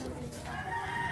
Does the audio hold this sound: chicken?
yes